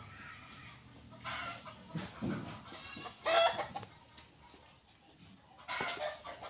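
Chickens clucking nearby in short, uneven bursts, with a few louder squawks, under quiet background sound.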